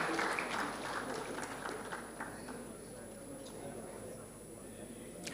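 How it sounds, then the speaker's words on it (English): Audience applause at a Ghana Navy memorial day ceremony as a representative is called up, steady dense clapping from a crowd that carries on evenly and fades slightly, with a voice over it. "A round of applause"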